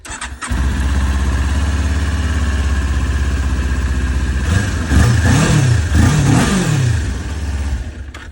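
A green 400cc motorcycle starts and settles into a loud, close idle, then gets blipped through several quick revs that rise and fall before dropping back, with no voices.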